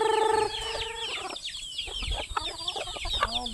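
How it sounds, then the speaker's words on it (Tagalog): Chickens clucking in a flock kept for sale, a busy overlapping mix of close clucks and short squawks, opening with a brief sustained call before the rapid chatter takes over. "daghan na sa ilang manok"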